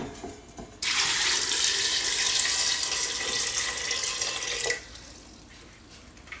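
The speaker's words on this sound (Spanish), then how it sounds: "Y ahora las cubrimos de agua" Cold tap water gushes into a pot of soaked broad beans, a loud, continuous splashing stream that starts abruptly, runs for about four seconds, then cuts off.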